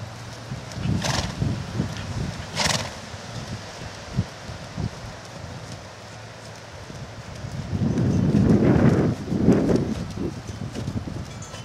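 A horse canters outdoors on a very windy day, with muffled rhythmic hoofbeats and a couple of sharper thuds rising through heavy wind rumble against the microphone, with no clear talk.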